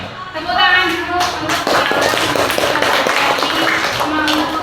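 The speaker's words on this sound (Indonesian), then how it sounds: "Tepuk tangan dulu" A crowd of people clapping hands at a school coaching session, a burst of applause swelling and continuing for several seconds, close and fairly loud, with some voices mixed in.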